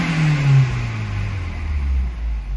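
A car engine, recently repaired after a seized motor and rust damage, revs up loudly and close, its pitch sliding down as the revs settle into a steady hum.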